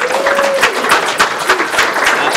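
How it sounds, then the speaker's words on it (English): Audience applause for an event sponsor at a VR film showcase, dense steady clapping filling the whole stretch with a few sharper claps standing out. "let's give them a big round of applause"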